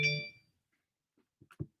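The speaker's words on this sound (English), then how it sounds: "Oh, just a stupid notification." A short electronic notification chime rings out clearly at the start and fades within half a second, followed by a few faint soft knocks and clicks in an otherwise quiet indoor setting.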